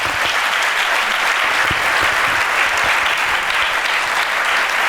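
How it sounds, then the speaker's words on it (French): An awards ceremony audience applauds steadily, dense clapping sustained throughout at an even, loud level. "On peut les applaudir."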